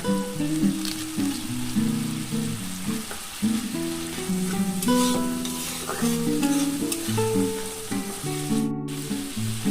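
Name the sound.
frying spice masala for jackfruit prawn curry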